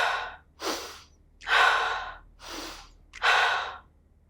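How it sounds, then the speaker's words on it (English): Deep breathing exercise: five slow, audible breaths close to the microphone, alternating strong inhalations and exhalations with short pauses between, alone without speech. "you're taking a deep breath"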